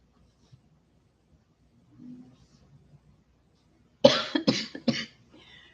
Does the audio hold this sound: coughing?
yes